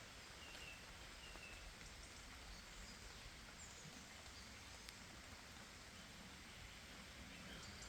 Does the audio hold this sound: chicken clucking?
no